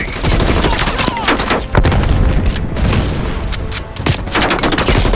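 Loud, dense machine-gun fire and booming explosions in Call of Duty: Black Ops Cold War gameplay, with continuous bursts of rapid shots that barely pause, close and overwhelming, with voices faintly mixed in.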